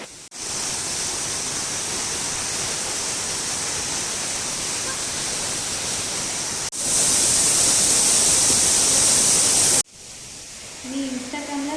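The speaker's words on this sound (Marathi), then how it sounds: "हा धबधबा पण म्हणजे खूप भारी वाटते इथे" A village waterfall roars as a loud, steady broadband rush that fills the whole clip, cutting abruptly between segments and dropping away near the end.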